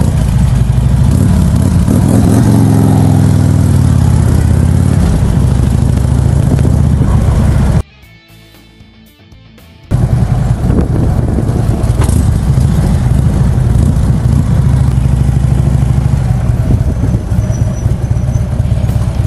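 A loud motorcycle engine with an aftermarket Vansenheims exhaust rumbles and revs continuously with a deep, throaty exhaust note, cutting out briefly midway before roaring back.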